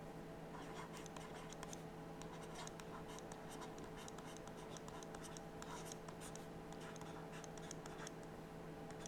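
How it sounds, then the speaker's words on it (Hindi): Chalk or marker writing numbers on a board during a maths lesson, a steady run of close scratchy strokes and taps with a constant background hum, no talking. "जो वो संख्या होगी यहाँ पर लिखेंगे"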